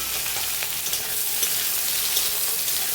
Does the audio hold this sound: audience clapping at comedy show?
no